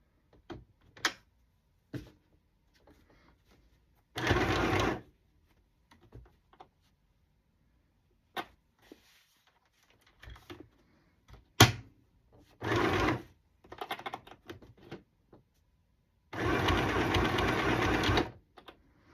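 A sewing machine stitches a handkerchief into a journal cover in two or three loud, close runs of rapid needle chatter, with scattered handling clicks and clunks between runs and no talk.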